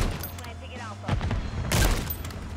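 Longbow sniper rifle shots in the video game Modern Warfare 3, two sharp booming reports about a second apart with echoing tails, under a player's voice.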